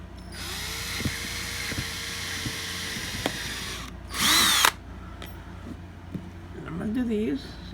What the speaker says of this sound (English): I'm going to drill straight down the center of all 4 tubs